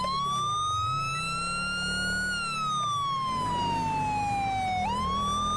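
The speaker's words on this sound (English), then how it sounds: "Siren must have stirred him up." Police car siren from the game GTA 5, wailing steadily with a slow rising and falling pitch that sweeps down and then jumps back up near the end, loud and continuous over low engine rumble.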